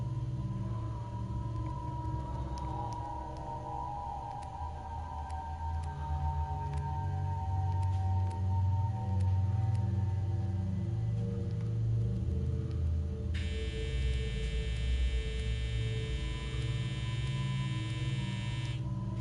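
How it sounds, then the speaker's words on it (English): A household clothes dryer runs with a steady low droning rumble and tonal hum lasting throughout, sitting under video game sound effects and a later high buzzing tone. "Sorry for the noise, that's our dryer."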